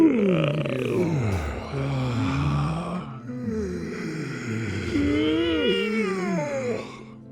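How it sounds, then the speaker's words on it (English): A person yawns deeply several times in a relaxation session, long drawn-out groaning exhalations with sliding pitch, close and fairly loud, overlapping into one another. "And now, I invite you to yawn."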